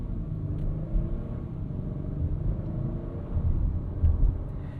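A 2025 Acura RDX A-Spec Advance, a turbocharged K20 SUV, cruises smoothly with a low, steady road and engine rumble inside the cabin. A slight swell comes near the end, and no one speaks.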